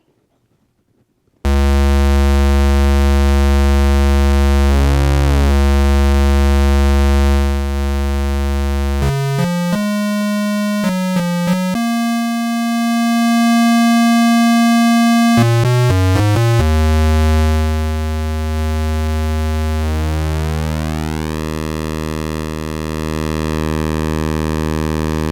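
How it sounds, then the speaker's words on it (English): Arturia PolyBrute 12 synthesizer sounding a square wave, a loud buzzy held tone that steps through several pitches and then glides, with the timbre shifting as it plays and no voices. "let's listen to the square wave now."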